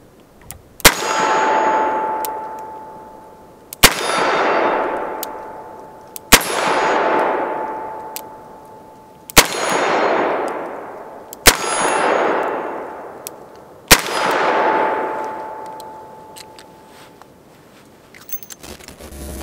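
A Chiappa Rhino 60DS revolver fired double action at steel targets: six sharp, loud shots spaced about three seconds apart, each followed by a long bright ringing of struck steel that fades before the next.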